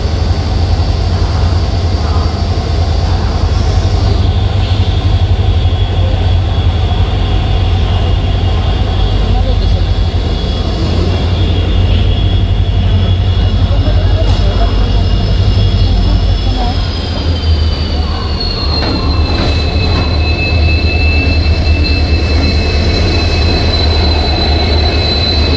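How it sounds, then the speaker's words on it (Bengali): A train rolls into the station with a loud, continuous rumble of wheels and cars, a steady high squeal of wheels on rail running throughout, while people talk nearby. "একটা ট্রেন ঢুকতেছে।"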